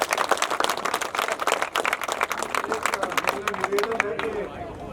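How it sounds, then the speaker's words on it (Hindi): Hearty clapping from a crowd at an outdoor political rally in Saharanwas, sharp claps over a murmur of voices and babble, thinning toward the end. "साहब का एक बार पुनः जोरदार तालियों से स्वागत"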